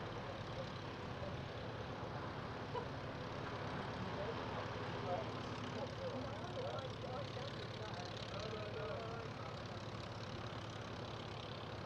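A light aircraft engine holds a steady, mid-pitched drone during its run-up before takeoff at Brooklands airfield, constant and moderately close, with voices talking over it.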